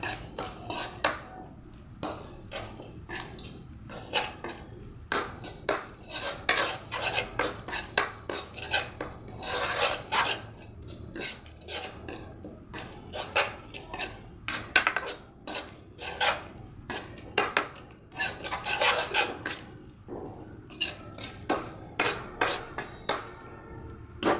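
Chicken with spices stirred in a pan, continuous irregular scraping and clattering of a utensil against metal, close and fairly busy, with no voices.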